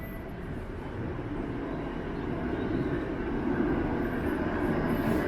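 A Toronto 503 Kingston Road streetcar passes on a city street in the early morning, a steady low rumble that grows gradually louder over five seconds with no talking.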